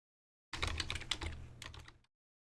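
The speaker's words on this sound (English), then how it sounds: "Sorry, I was typing to Michael" Quick, light keystrokes on a computer keyboard during an online tabletop role-playing session, a short, faint burst of typing lasting about a second and a half.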